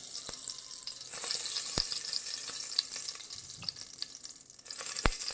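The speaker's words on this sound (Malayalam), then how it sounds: "നെയ്യ് ഒഴിക്കാം." Ghee goes into a fresh pan for prawn biryani and sizzles steadily up close, with a brighter, louder hiss in places and scattered sharp ticks and crackles, and no talk over it.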